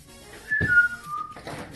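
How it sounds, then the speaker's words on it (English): A person whistles a short phrase of three notes close by in a kitchen, a brief bright tone sliding downward, with light clatter around it. "Why do I keep whistling those 3 notes?"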